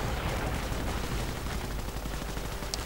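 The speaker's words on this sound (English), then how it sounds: "Sten guns firing away" Sten guns fire in a World War II video game battle between Commonwealth and Wehrmacht troops, a dense, continuous rattle of automatic gunfire blended into a constant, noisy combat din.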